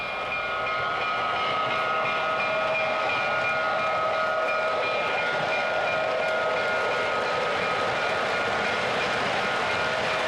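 An MTH Railking model diesel locomotive with dual flywheel motors runs along its track, a steady electric motor whine with sustained tonal hum and faint rail rumble, continuous and fairly loud, with no talking.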